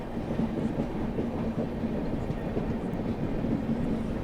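The Panchvali Express, running from Indore to Nainpur, passes on the third line behind an electric locomotive, a steady rumbling roll of wheels on rails heard from some distance, continuous and unbroken throughout.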